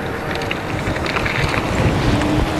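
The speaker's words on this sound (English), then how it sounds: "I don't know if you guys are going to be able to hear me because it's windy." Steady, loud wind buffeting a microphone, a continuous rumbling roar with no speech.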